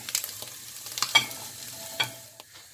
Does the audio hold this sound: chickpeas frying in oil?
yes